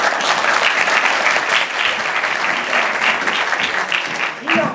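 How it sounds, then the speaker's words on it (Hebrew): Sustained dense clapping from an audience at a comedy stage show, loud and steady throughout with a brief voice near the end. "כפיים, כפיים"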